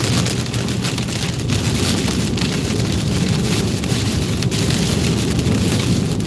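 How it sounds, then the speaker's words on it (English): Hail drums hard and continuously on a car during a severe storm, a dense, loud clatter of countless impacts with strong wind, all close around the vehicle. "We're getting into a big hail of debris. Lots of hail."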